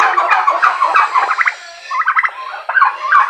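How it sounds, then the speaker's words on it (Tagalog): A flock of turkeys on a farm gobbles in quick, rattling bursts, loud and close, with several birds overlapping throughout. "Ito yung mga pabo natin."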